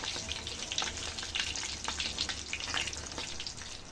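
Bengali winter pitha fry in hot oil with a bright, crackling sizzle that rises and falls in busy bursts over a low, steady hiss. No voices are heard.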